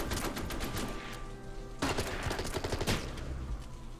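Gunfire in the strategy video game Order of Battle with US Marines: rapid bursts of crackling shots in dense clusters, a pause, then a second volley, loud and alone with no talking.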